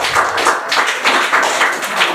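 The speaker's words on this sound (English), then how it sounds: "Okay, clap for yourself then." Audience of students at a Teachers' Day program clap in short, rapid bursts for about two seconds, close and fairly loud, without talk.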